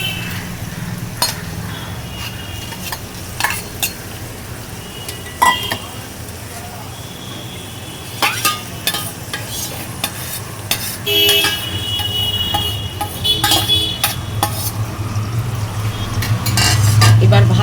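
Fish and potatoes being stirred into a spice paste in a pan for a Bengali loitta fish jhuri, with utensil scrapes and clinks over a steady sizzle, a voice talking briefly at times.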